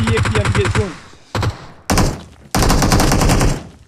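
AK rifle bursts in the PUBG Mobile gun game mode, several loud rapid automatic volleys broken by short pauses, with a voice talking over the opening burst.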